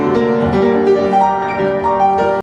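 A short Brahms piano phrase is played with a bar suddenly sped up and melody notes sounded slightly out of line with the accompaniment, giving sustained, ringing tones in a gently uneven rhythm.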